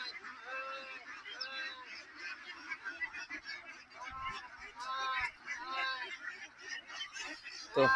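Ducks on a commercial duck farm pond honking and quacking in repeated overlapping bursts, fairly close, with someone talking over them.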